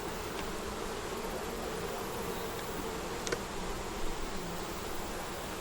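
Honey bees walk over hive frames with a steady, soft, dense buzzing throughout and a few faint clicks and knocks, with no talk.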